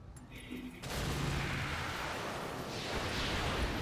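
Mech weapons firing in the video game Roguetech, a sudden dense barrage of booming blasts that swells into a sustained rumbling roar, fairly quiet overall and without speech over it.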